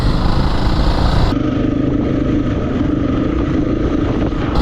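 A motor vehicle on an adventure ride drives past on the beach sand at Rainbow Beach, its engine a loud, steady, close drone with a slight change in tone partway through.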